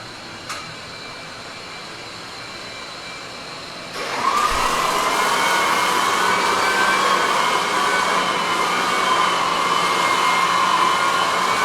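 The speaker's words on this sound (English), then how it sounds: "Got the vacuums going." Shop vacuums running during maple floor refinishing: after a quiet start, a loud, steady motor whine kicks in and holds close and constant.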